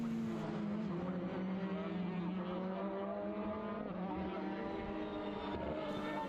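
Formula BOSS race cars roar through a chicane during an Ireland Championship round for the Leinster Trophy, a loud continuous engine drone with shifting pitch as the cars brake and accelerate past.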